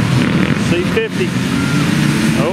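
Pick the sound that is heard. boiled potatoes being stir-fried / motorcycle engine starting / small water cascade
motorcycle engine starting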